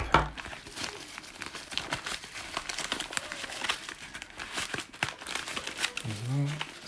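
Parcel packaging crinkled and torn open to unwrap a Nintendo DSi XL 25th anniversary Mario console, a steady stream of close crackling and rustling throughout, with a person talking over it.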